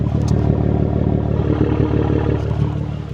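Modern BMW M3 engine and exhaust revving hard, a loud, steady, throaty roar with dense low rumble that holds for about three seconds, close by and with no talking.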